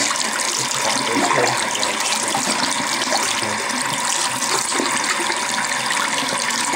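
Water running through a small strainer to rinse shisha tobacco, a steady, loud rushing and splashing stream that continues without a break.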